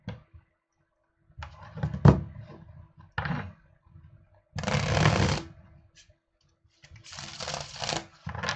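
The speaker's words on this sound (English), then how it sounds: "Now let me shuffle and we can go to Taurus Sun, Taurus Moon and Taurus Rising." Tarot cards shuffled by hand in several separate bursts of brisk riffling and flicking, close and crisp, with quiet pauses between them.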